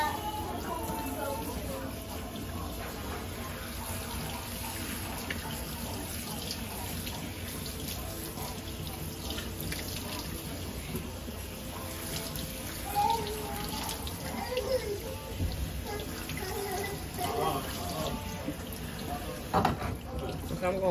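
Tap water running steadily while a child's hair is washed, a continuous close splashing stream with occasional louder splashes, and voices talking faintly underneath.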